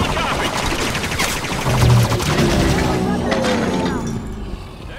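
Rapid gunfire from Halo 5 soldiers targeting a Hunter, sustained bursts of automatic fire with booming impacts layered over battle noise and shouted voices, loud and continuous before easing off.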